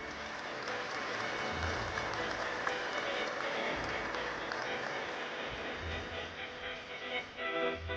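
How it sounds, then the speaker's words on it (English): Sustained applause from a large audience at a formal forum opening in Taiwan, welcoming the president to the stage; dense steady clapping holds for the full stretch with a murmur of voices beneath it. "Please welcome him with a warm round of applause."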